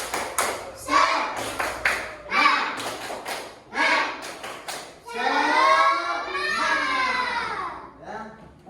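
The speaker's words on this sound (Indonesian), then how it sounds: "Tepuk semangat." A classroom of children claps and chants together in rhythm, a spirited group cheer with bursts of hand claps between loud, unison voices, close and lively.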